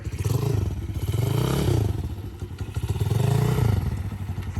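The engine of a 2021 dirt bike runs loud and close, a rough throbbing idle that swells twice as the throttle is blipped and then settles back, with no talking over it.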